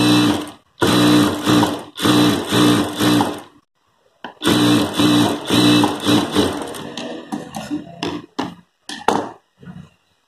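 A sewing machine stitches a blouse edge folded a quarter inch, running in rhythmic bursts that stop briefly, resume in a longer run, then trail off into scattered clicks and short stitches.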